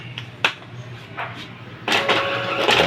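An Epson L3210 inkjet printer, just switched back on after a stuck gear, pulls in a sheet. A few faint mechanical clicks come first, then a steady, close whirring feed noise runs to the end.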